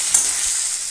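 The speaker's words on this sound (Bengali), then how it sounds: "জিরের গুঁড়ো দিয়ে এখন এটা ভালো করে কষিয়ে নেব।" Potato and green banana pieces sizzle in hot oil with ground cumin while being stirred in a pan, making a brief, close, loud and steady frying hiss.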